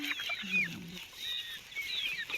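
Farm chickens being caught for sale cluck in short, chirpy bursts close by, with a low voice murmuring briefly near the start.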